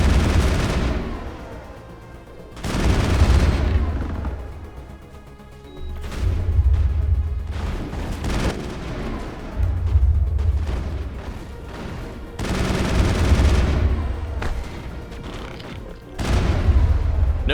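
Assault rifle fire in Mass Effect, loud repeated bursts of gunshots with booming low impacts, coming in several separate volleys with brief lulls between them.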